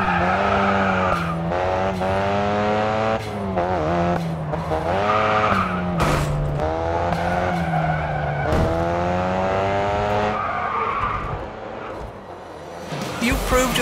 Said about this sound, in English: After releasing the handbrake, immediately tap the throttle to sustain your speed while drifting.